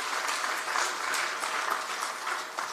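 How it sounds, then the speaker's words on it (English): Townhall meeting audience applauding steadily after a speaker's introduction, a dense wash of clapping that holds level for the whole stretch. "Give her a round of applause."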